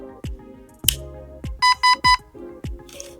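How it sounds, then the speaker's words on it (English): An airsoft gun switching on, giving a short electronic startup sequence of chirps, then three quick bright beeps in a row, then softer tones, all close and clear with no talk. "then you're gonna hear a little beep, and then you're gonna know that it's on."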